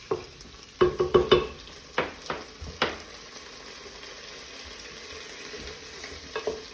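Vegetables for a lentil tortilla soup sizzle in a pot while a spoon stirs them, giving a cluster of close scraping knocks early on, a soft frying hiss underneath, and a few more stirs near the end.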